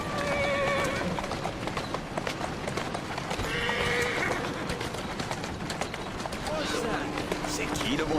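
Horse hooves clip-clop at a run with repeated neighs and whinnies in Assassin's Creed Syndicate, steady galloping under someone talking over the game.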